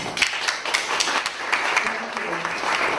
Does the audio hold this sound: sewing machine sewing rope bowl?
no